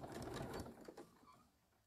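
Sewing machine stitching a quilt panel, a quiet, steady mechanical whir that runs briefly and then slows and fades, with no talking.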